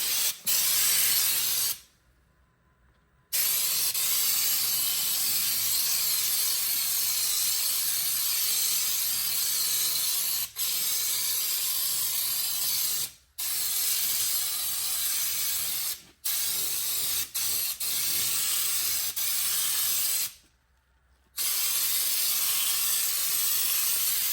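Steady, loud spray gun hiss applying spray-on bed liner to a 1989 Chevrolet S10, running in long bursts, broken by a few short pauses and one longer gap, with no talking.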